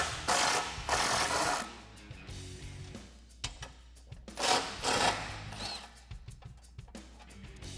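A hand ratchet with a 19mm socket clicks rapidly while loosening front bumper bolts on a Jeep Wrangler, with bursts of dense ratcheting separated by short pauses and fainter clicks, close and without talk.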